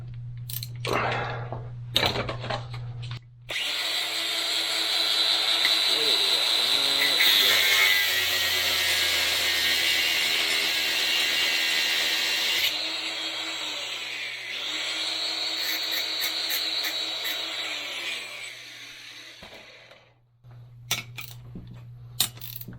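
Power tool cutting through a threaded stud on a Jeep TJ, a loud, steady whining grind running for about seventeen seconds with a pitch change midway, bracketed by short clanks and knocks of handling before and after.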